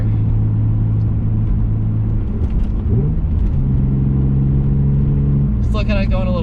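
A car engine runs steadily while driving in light, not-yet-warm conditions: a continuous low rumble with a shift in pitch midway, and a brief higher tone near the end.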